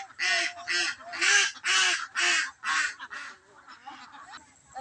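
A large flock of about 500 domestic ducks on a farm, sending up a loud, dense burst of repeated quacking calls in rhythmic waves that fade into a quieter, scattered chatter.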